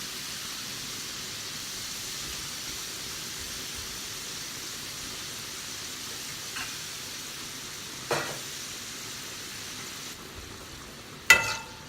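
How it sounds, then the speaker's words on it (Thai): Oil sizzles and crackles softly as wonton strips fry, a steady low hiss with a few sharper pops and clinks near the end. "แล้วก็ค่อยๆใส่ เกี๊ยวที่เรา หั่นไว้ลงไปทอดค่ะ"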